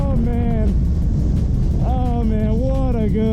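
A CFMOTO 450SS sport motorcycle fitted with Bitubo suspension revs hard, its engine note climbing in pitch through two strong pulls with a brief dip between, loud and close.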